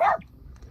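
A dog gives a single short bark aboard a fishing boat during drift fishing, loud at the start and then fading into quiet background.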